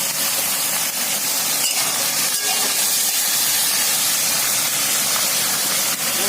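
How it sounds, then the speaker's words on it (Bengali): Chicken added to a pan of nearly fried onions, sizzling in a loud, steady hiss that runs without a break, with a few faint clinks of utensils against the pan. "এই চিকেনটা এবার দিয়ে দেবো।"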